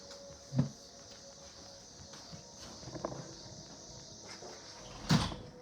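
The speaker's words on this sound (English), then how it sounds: "Hold on, I gotta shut this door." A door being shut indoors, heard as a sharp thud near the start and another firm knock near the end, with quieter rustling between and no talk.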